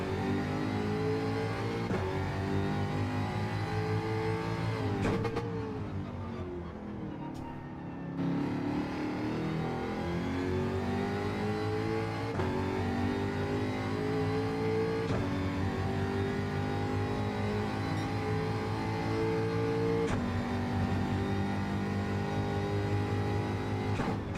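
A Gr4 race car engine in Gran Turismo 7 drones loudly and continuously, its pitch climbing and dropping through gear changes, with a brief lull near the start before steady high-revving resumes.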